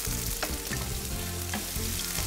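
Ginger and onions in peanut oil and butter give off a dense, close sizzle, with steady crackling and a few stir scrapes throughout.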